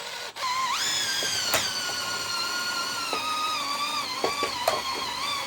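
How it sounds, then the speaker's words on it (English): A Milwaukee cordless drill whines continuously, its pitch rising sharply at first then holding steady, with a few brief clicks and knocks along the way. "Using my Milwaukee drill."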